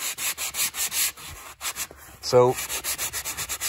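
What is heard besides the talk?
hand sanding a surface with a sanding block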